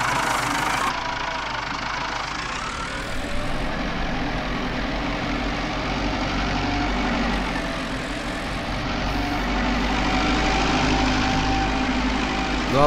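IMT 577 deluxe tractor with dual-wheel drive running in Farming Simulator 19, a steady, loud, continuous engine drone with low knocking throb, holding even for the whole stretch with no talk.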